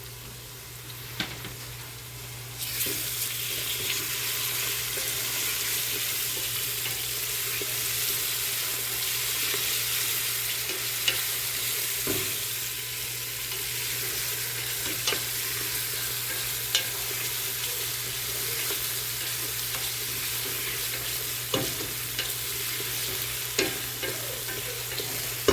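Basil and parsley are stirred into a vegetable stew of zucchini frying in a pot, a steady sizzle with scattered scraping clicks of the spoon over a low kitchen hum, no voices.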